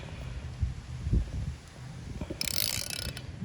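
An 8 mm Allen wrench turns a plug out of an LS cylinder head, giving a few close metallic clicks and ratcheting scrapes, then a brief brighter grinding rasp near the end.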